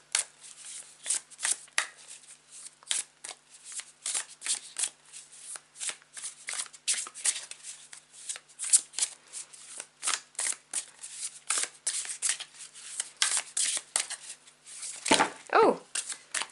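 Tarot cards being shuffled by hand, with repeated crisp riffling and flicking bursts in an irregular rhythm, fairly quiet and close, no speech over them.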